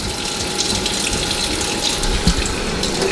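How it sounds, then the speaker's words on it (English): Freshly picked dandelions are rinsed under a steadily running faucet, a continuous close splash and hiss of water with a small clunk partway through. "what I'm doing now is I'm going through and we will wash them and rinse them all out"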